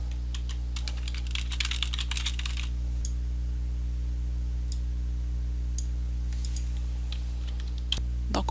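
Typing on a computer keyboard, a rapid burst of close key clicks in the first few seconds, then scattered single taps over a steady low hum.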